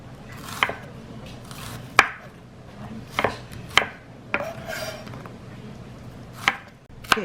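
A shallot sliced with a knife on a cutting board, a series of sharp, close chopping knocks at irregular intervals, about eight distinct cuts with quiet pauses between.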